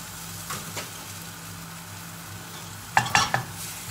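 Egg frying in a hot wok for kway teow, a steady sizzle broken by a few sharp metallic scrapes of the spatula near the end.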